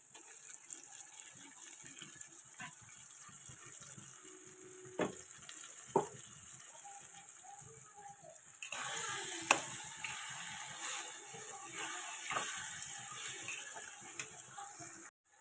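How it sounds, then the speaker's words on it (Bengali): Onion frying in a pan as paste of ginger, garlic and green chili is tipped in, a soft steady sizzle with a few sharp clinks of a utensil, growing louder and brighter partway through, with no talking. "পেঁয়াজ ভাজা হয়ে গেছে আমি আদা রসুন কাঁচা লঙ্কা বেটে রেখেছিলাম এবার এগুলো দিয়ে দিলাম"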